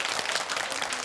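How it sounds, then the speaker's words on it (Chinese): A studio audience at a stand-up comedy show claps in a short, dense burst of applause with no talk over it. "每一个停顿都要给我掌声啊！"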